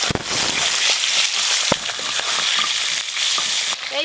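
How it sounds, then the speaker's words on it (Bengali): Pomfret fish sizzling and crackling in hot oil in a home kitchen, a steady loud fry with occasional sharp pops and spatters throughout. "এই মাছগুলো একই রকম করে ভেজে নেব।"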